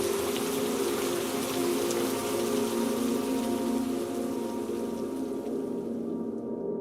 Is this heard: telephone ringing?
no